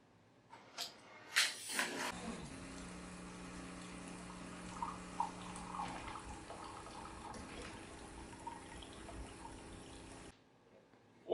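A Wittenborg 9100 coffee machine runs a complete rinse cycle: a pump whirs and water streams steadily for several seconds, then cuts off, with a few clicks before and after, heard faintly at close range.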